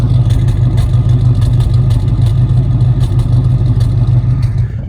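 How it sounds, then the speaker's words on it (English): A 1972 Ford Mustang convertible with a 302 V8 and a single exhaust idles steadily at close range, a loud continuous low rumble with a faint clattery edge and no talking. "Sounding like a pretty hot, healthy idle."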